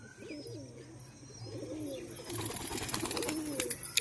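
Large pigeons in a loft give soft, rolling coos, repeated close by, while sharp chirps and rustling build toward the end.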